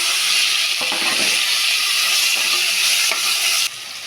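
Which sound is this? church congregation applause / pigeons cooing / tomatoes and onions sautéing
tomatoes and onions sautéing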